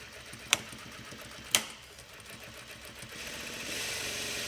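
A Juki DDL900A lockstitch industrial sewing machine runs steadily and close by, with two sharp clicks near the start and a smooth, slightly rising whir toward the end.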